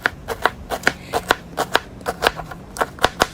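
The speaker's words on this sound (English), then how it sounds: "I have 2 large onions that I'm going to dice really good." A knife dicing two large onions on a board: a quick run of sharp, crisp chops, roughly three or four per second, close and fairly loud, with no talk.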